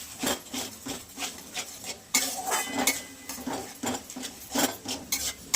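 A spoon scrapes and clinks against a pan as a yogurt and spice mix is stirred into onions for a fenugreek and green pea curry, in steady rhythmic strokes close by with no talking.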